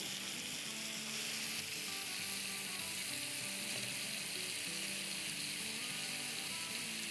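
Chicken frying on a flat tawa makes a constant, even sizzle and crackle that holds steady throughout, close and alone without voices.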